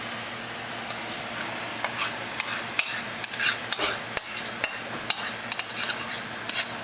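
Beans and barbecue sauce sizzle in a heated pan while being stirred, a steady frying hiss broken by frequent scraping clicks of the utensil against the pan.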